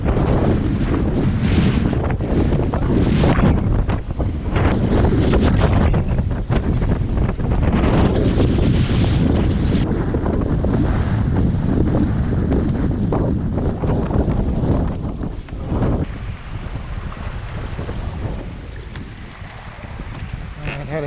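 Strong wind roars and buffets across the microphone while a boat runs downwind under a double-reefed main, with water rushing and surging alongside, loud and continuous before easing slightly near the end.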